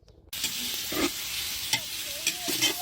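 Smoked pork fat (salo) fries in a pan with a loud, steady sizzle that starts suddenly and continues throughout, close up with occasional stirring clatter and no voices.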